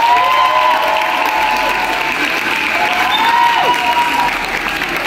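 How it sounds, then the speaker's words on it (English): An audience applauds Mrs Lee, founder of a school that began with only 35 students, with steady, dense clapping that fills the room throughout, along with some scattered cheering. "Let's clap for her again."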